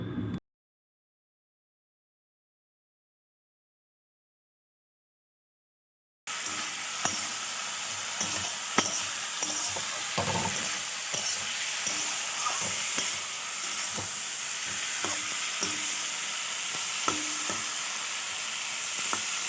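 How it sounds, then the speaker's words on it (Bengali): Fried tilapia pieces being stirred and cooked down in a mustard and poppy-seed masala, a steady close sizzle with scraping stir strokes, after a brief silence at the start. "এগুলো কিন্তু ভালোভাবে কষিয়ে নিচ্ছি"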